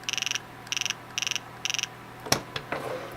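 Polarstar Jack paintball marker solenoid firing in full-auto, four rapid bursts of quick buzzing clicks in an even rhythm, followed by a few louder clunks and handling knocks, close to the mic.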